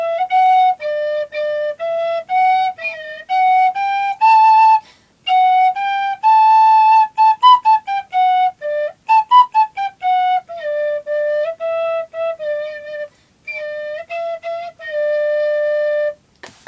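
A penny whistle plays Frère Jacques alone, a bright, slightly squeaky melody of short separate notes with a few quick trills and brief pauses between phrases.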